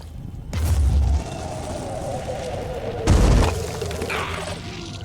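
Two heavy Boom Blast explosions from the video game Terror From the Void, deep booming blasts a few seconds apart with rumbling tails.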